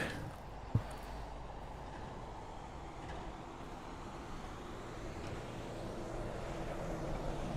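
An airplane approaching to land at Toronto airport rumbles as a faint, steady distant roar that slowly swells, with a single sharp click near the start and no talk.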